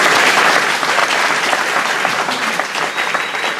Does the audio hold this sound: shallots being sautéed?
no